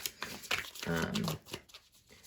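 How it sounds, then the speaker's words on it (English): Tarot cards are shuffled in a brief, crisp flurry of riffling and sliding card sounds, heard up close beneath a speaking voice. "I just started shuffling again"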